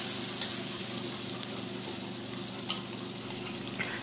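Pork with shrimp paste being sautéed in a pan for pork binagoongan, a soft steady sizzle with faint stirring scrapes running throughout.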